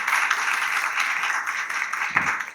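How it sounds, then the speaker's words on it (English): Applause from a keynote audience for a speaker, a steady broadband wash of clapping that stays fairly even and moderately loud for the whole stretch, with no talk over it. "I would like to ask for a big round of applause for Dr. J."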